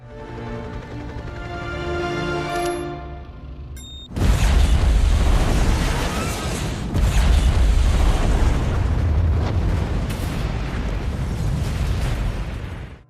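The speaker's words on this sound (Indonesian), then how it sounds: "John menekan detonator untuk meledakkan bom yang sebelumnya sudah ia pasang. Ledakan besar pun terjadi" A huge bomb blast tears through the Skynet facility: a sudden, massive boom at about four seconds follows a quieter stretch of tonal sound and a few sharp pings, then a loud, sustained roar of rumbling destruction fills the rest.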